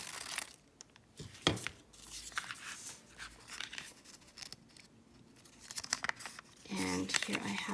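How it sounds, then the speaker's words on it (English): Scissors snipping paper along a triangle outline for a paper flower, soft intermittent cuts and crinkles with rustling and a louder burst of paper handling near the end. "I'm going to just cut along my triangle shape."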